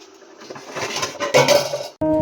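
Dishes piled up after a day of heavy cooking are washed, with clattering, clinking pots, plates and cutlery jostling close by for a couple of seconds before a brighter ringing clank of metal at the end.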